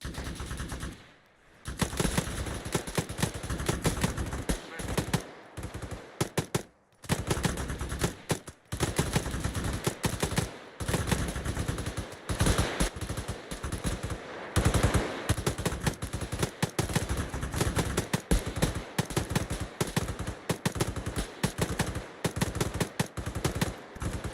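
Sustained machine gun fire in the military video game Arma 3, loud rapid bursts suppressing enemy bunkers, rattling almost continuously with only brief gaps and no talking.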